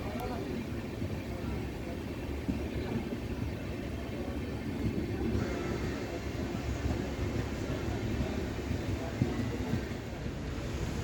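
Onboard the 16606 Trivandrum–Mangalore Ernad Express in Kerala, India, a steady close rumble of wheels and carriage runs unbroken throughout, with even road noise and no distinct horn or clatter.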